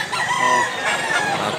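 Several roosters crow in overlapping calls at a Mantalungon, Barili gamefowl farm, the cock-a-doodle-doo cries fairly close and steady against a busy yard background.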